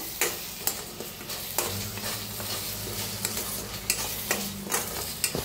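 Ground masala of turmeric, coriander powder and red chilli powder roasting in a hot pan, with a steady close sizzle and repeated scraping stirs and light utensil taps, no voices.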